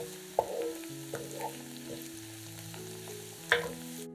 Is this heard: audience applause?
no